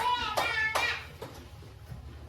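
Children in a classroom clapping game clap hands in a short rhythmic pattern, a few distinct sharp claps close together near the start, then fading into quieter room noise and a voice.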